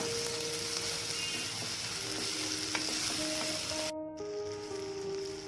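Soft, continuous sizzling of tomatoes and curry leaves sautéing in a pan, with faint stirring scrapes underneath; quiet and even throughout, no voices.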